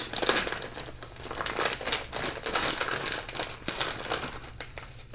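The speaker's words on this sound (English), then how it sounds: "And I'll even open the bag for you guys" Plastic bag opened by hand, continuous close crinkling and rustling for several seconds at moderate volume, with no voices.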